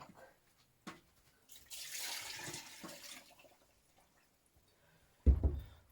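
A kitchen tap runs water into a container for a salt-and-sugar brine used to can mushrooms, a soft steady stream lasting a couple of seconds, with a few clinks before it and a louder knock near the end.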